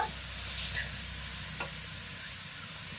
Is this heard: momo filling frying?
yes